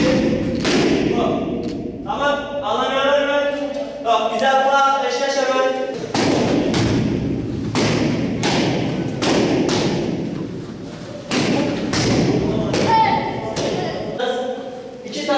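Kicks and punches thud against a training pad during a free youth sports class, a series of loud close impacts in irregular bursts, mixed with a person talking throughout.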